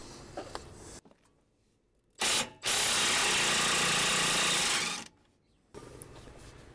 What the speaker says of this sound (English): Gotta love having a big impact gun to whack stuff off.